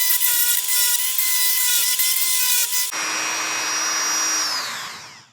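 A Dremel rotary tool cuts away the staking around a stuck steering lock set screw on a Kawasaki Z1, giving a loud, close, high-pitched whine with grinding that shifts partway through, then the motor winds down.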